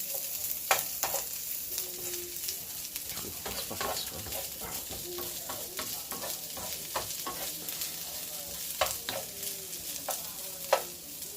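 Garlic frying in a pan for spaghetti carbonara, a steady close sizzle with frequent scraping strokes and taps of a stirring utensil, continuous and without talking.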